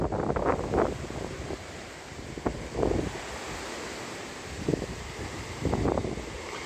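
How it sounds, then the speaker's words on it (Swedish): Gusty wind on the Swedish west coast buffets the microphone in low rumbling bursts, with steady surf-like roar underneath throughout. "Svårfilmat i denna vind, men jag ska försöka visa utsikten så gott det går."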